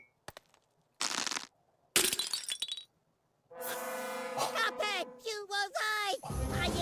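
Glass shatters in The Cuphead Show cartoon: sharp crashing bursts with tinkling fragments, then people talk excitedly over the scene.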